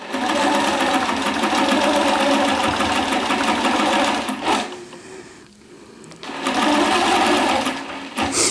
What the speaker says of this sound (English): So now I'm going to stitch the ditch up